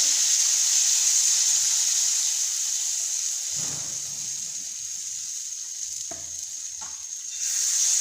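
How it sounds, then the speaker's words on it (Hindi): Gram flour batter hits a hot tawa and sizzles steadily, a bright continuous hiss close by with a few soft scraping touches partway through. "घोल को हम तवे पर डालेंगे।"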